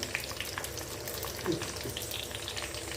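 Curry leaves, mustard seeds and cumin seeds spluttering in hot oil, a dense continuous crackle with scattered small pops, close but moderately quiet.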